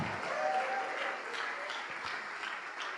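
Church congregation applauding during an evangelical ministry service, a steady, moderately distant wash of clapping with no voices, holding even throughout.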